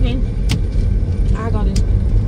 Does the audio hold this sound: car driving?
yes